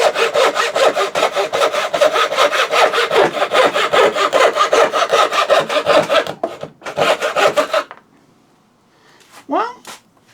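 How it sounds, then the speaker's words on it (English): A thin-bladed turning saw cuts the waste out of a wooden dovetail in quick, even back-and-forth strokes. The strokes stop briefly, resume for a short burst, and end in quiet with a few faint squeaks. "Let's see if we can use it to cut out the waste in a dovetail"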